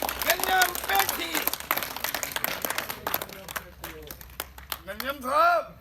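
Applause from a comedy show audience welcoming a performer crackles under an emcee's talking, strongest at the start and thinning out midway as the speech carries on alone.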